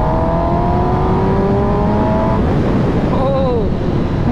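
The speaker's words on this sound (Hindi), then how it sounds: "स्लिप ऑन एग्जॉस्ट में क्या हो रहा है कि आवाज़ भी आ रही है" Motorcycle fitted with a slip-on aftermarket exhaust being ridden, its steady loud engine drone running throughout with a shift in pitch partway, close to the microphone under wind rush.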